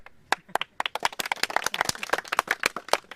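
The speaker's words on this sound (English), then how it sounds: "Please clap for Zafar." A small group claps together at an outdoor activity, quick scattered hand claps building into brief applause lasting a few seconds.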